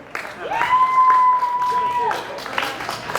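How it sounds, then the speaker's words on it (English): Comedy club audience at Schulz Brau applauding through a steady, noisy wash of clapping, with a sustained whistle-like tone ringing over it in the middle. "Give yourselves a round of applause for sitting here."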